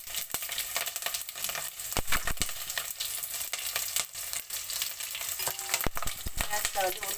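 Cinnamon, chillies and whole spices such as bay leaf, peppercorns, cloves and cumin frying in hot oil in a pan, with steady close sizzling, stirring scrapes and small clinks throughout, no talk.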